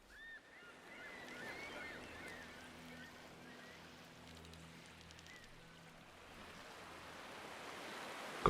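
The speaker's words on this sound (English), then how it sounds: "Got the lovely waves, we've got the seagulls, we've got the creaking of the boats" Steady wash of ocean waves with faint creaks and distant gull-like calls in a fishing boat video game, a calm continuous ambience without speech.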